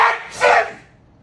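A voice mimics a huge sneeze, a short breathy build-up followed by one loud burst that fades quickly, heard alone.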